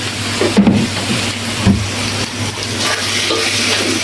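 Dried fish with data shak greens fries in a pan with a continuous loud sizzle, broken by occasional scrapes and stirs of a spoon through the mixture.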